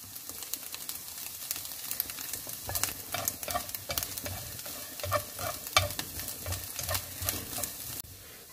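Anchovies and egg stir-fried in a pan: a close, continuous sizzle with repeated scraping stirs and clinks of the utensil against the pan, ending in a short quieter moment.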